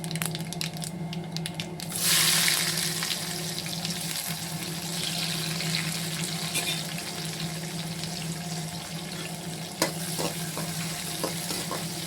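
Onions sizzle in hot oil with a steady, dense hiss, getting louder for a moment as they hit the pan, with occasional clinks of stirring.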